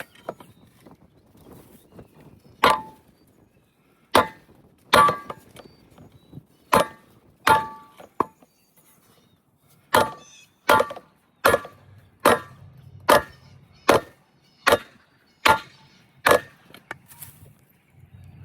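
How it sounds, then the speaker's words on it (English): A sledgehammer strikes a wooden block to drive a fence post, about fifteen sharp, loud thuds, spaced at first and then coming in a steady rhythm, with quiet pauses between blows. "Taking a block and a sledgehammer, and we'll see how it goes down."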